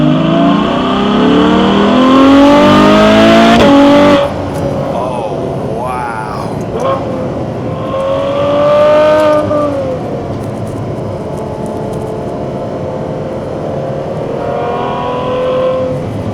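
A 2020 Ferrari 812 Superfast's 800 hp V12 revs hard, its loud rising howl climbing through gears with shift drops and renewed pulls, close and continuous throughout.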